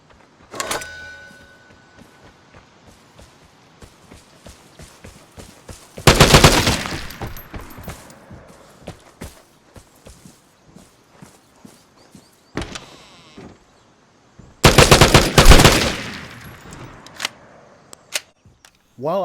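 Gewehr 3 rifle fire in the video game Vigor, in a Grontheim Valley match: two loud, sharp shots far apart, each with a brief noisy tail, between quieter clicks and footstep-like handling sounds.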